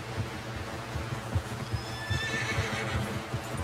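A horse whinnies in the video game Red Dead Redemption 2, a high, wavering neigh rising over a steady background of repeated hoofbeat-like clip-clops and ambient game sound.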